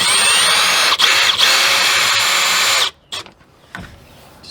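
Cordless power drill backing screws out of a camper trailer, a loud close whine running for about three seconds, then stopping, followed by a couple of brief spins and light clatter.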